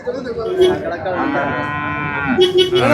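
A cow at the bustling Manapparai cattle market lets out a loud, sustained moo lasting a couple of seconds, close and clear, with a second call starting near the end.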